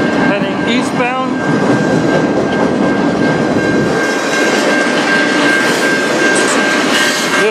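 An eastbound CN manifest freight train led by SD70M-2 and C44-9W locomotives passes close by, a loud continuous rumble and wheel noise with a steady high squeal, briefly joined by a horn-like tone early on.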